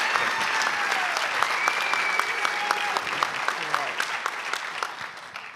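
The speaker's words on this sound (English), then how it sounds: "another big round of applause" An audience at a live Social Venture Partners Charlotte onstage event gives a big round of applause, dense clapping with a few voices cheering and whistling over it, steady and fairly loud.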